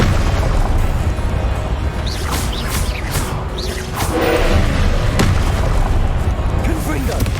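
Loud, booming Confringo spell explosions from a boss battle in the video game Hogwarts Legacy, with repeated blasts and magical bursts layered over a dense, roaring wall of combat noise.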